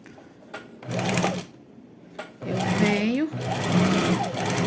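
A sewing machine backstitches back and forth to reinforce a seam on shorts elastic, its motor whirring in short runs separated by pauses. Someone talks close by over the stitching.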